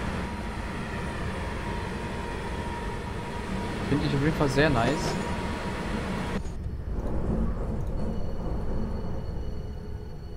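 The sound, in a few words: ICE 4 train interior sound in video game Train Simulator Classic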